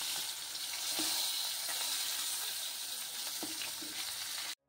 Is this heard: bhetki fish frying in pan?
yes